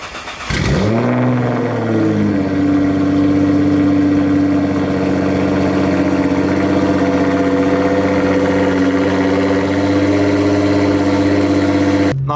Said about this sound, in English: cold start, starting now